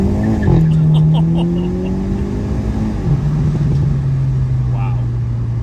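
A 2022 Hyundai Elantra N accelerates hard from a dig, its engine climbing loudly through the revs, dropping briefly at a gear change, then pulling strongly again up close.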